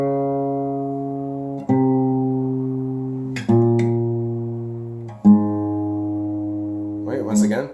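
Acoustic guitar played without a capo, picking the riff from a song: a few single bass notes let ring for long sustains, close and clean, then a short bit of talk at the end.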